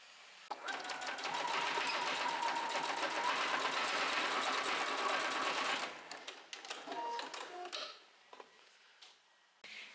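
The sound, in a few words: sewing machine sewing over elastic and strap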